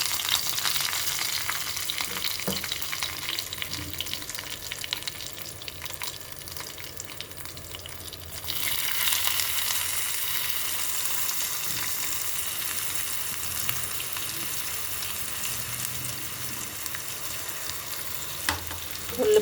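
Onion and green chili sizzle and fry steadily in a spoonful of oil with cumin and curry leaves in a pan on the stove, a continuous close crackle that brightens partway through as the pieces are stirred.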